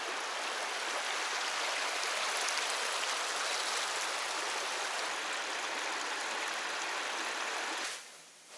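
Steady rushing water of a mountain stream in the Scottish Highlands, broad and continuous, flowing loudly for several seconds before abruptly cutting off near the end.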